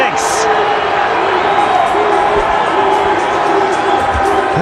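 Cricket crowd at a Pakistan versus Zimbabwe one-day international cheering a six, a loud, steady roar of spectators filling the stadium under a commentator's voice.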